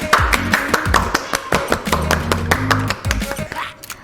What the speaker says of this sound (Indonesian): Beri tepuk tangan untuk Bapak Aan.